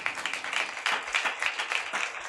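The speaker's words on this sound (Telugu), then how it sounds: "గట్టిగా చప్పట్లు కొట్టండి." A church congregation clapping loudly in a quick, steady rhythm, many hands beating together in repeated bursts with no talking.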